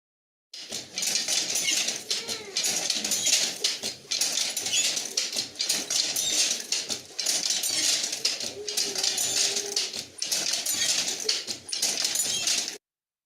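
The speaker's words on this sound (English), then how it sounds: "That was the sound of a hand loom, and it was fading away slowly." Hand loom weaving: rhythmic bursts of bright, clattering wooden knocks and shuttle swishes, separated by short pauses, repeating steadily for several cycles before stopping abruptly.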